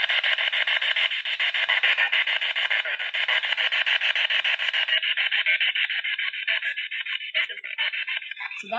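Spirit box radio scanning stations, a steady rapid rasping hiss of chopped static that shifts in tone partway through, fairly faint and continuous with no clear voice.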